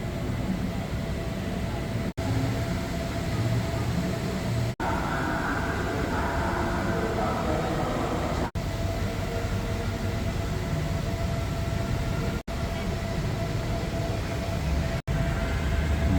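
SRT Royal Blossom train at Hua Lamphong station in Bangkok, a steady low rumble of the train filling the hall, continuous and fairly loud with brief cuts between shots.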